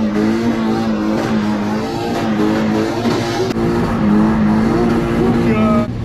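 A Mazda car driving fast on a wet closed road, with the engine droning loudly and steadily for several seconds and its pitch wavering slightly as the speed shifts.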